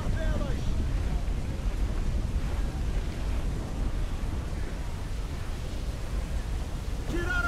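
Wind and waves at sea in Assassin's Creed IV: Black Flag roar in a broad, continuous rush of wind and surf, loud and steady, with faint cries near the end.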